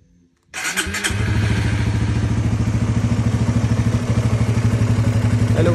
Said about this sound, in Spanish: Vamos a hacer entonces acá el encendido de la moto.